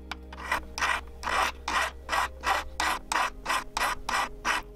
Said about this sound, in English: The ends are filed.